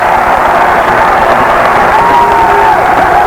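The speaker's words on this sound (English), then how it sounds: "The crowd making a lot of noise" A 1984 basketball arena crowd at a Spurs versus Clippers game cheers loudly in a dense, sustained roar with scattered whoops, tight two-point game in the closing moments.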